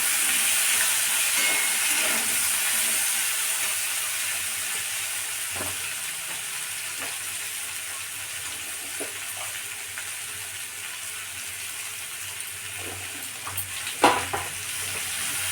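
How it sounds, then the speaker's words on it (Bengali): Tomato frying in a pan, giving a long, even sizzling hiss with occasional faint utensil taps and one sharper clatter near the end. "টমেটোটা দিয়ে আর একটু ভাজবো"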